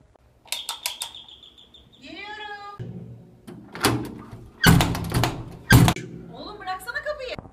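A door is rattled and knocked on several times, sharp bangs and thuds coming in bursts between stretches of quiet, with a voice calling out in between.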